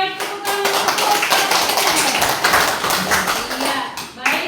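A crowd applauds steadily for a few seconds, a dense patter of hand claps filling the room before fading out.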